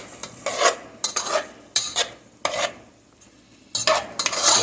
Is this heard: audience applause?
no